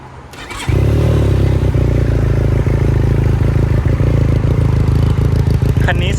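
A 2018 Benelli TRK502 motorcycle starts up after a brief crank, settling into a loud, steady idle up close with a low throbbing rumble and some mechanical clatter.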